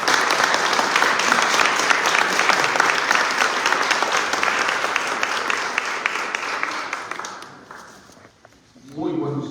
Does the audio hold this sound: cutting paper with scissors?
no